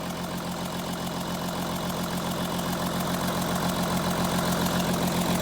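Audi Q7 diesel engine idling roughly with cylinder 1 misfiring, a steady low rumble with an uneven knocking pulse and shaking vibration, close and constant with no talk.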